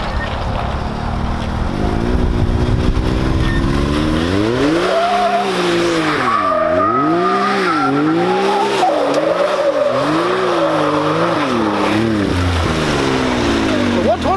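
A 2019 Can-Am X3 side-by-side, a 120 race build, squeals its tires into smoke, a loud continuous howl rising and falling in wavering pitch sweeps over engine roar for about fourteen seconds.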